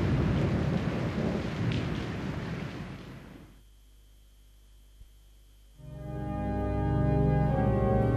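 A thunderstorm with rain, a heavy rumbling roar of thunder and downpour that fades to near quiet and then swells back in loud and steady.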